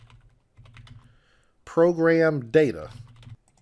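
Soft keystrokes tap on a computer keyboard while typing a path into the Windows Run box, faint and scattered at first, then someone speaks over them.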